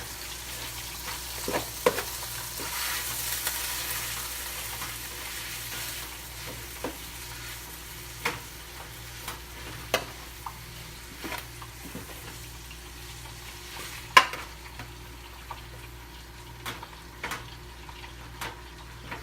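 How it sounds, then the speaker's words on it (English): Ground beef for burritos fries in a pan, a soft steady sizzle broken by repeated light scrapes and clicks of a metal spatula or spoon stirring the meat. "Stir it around."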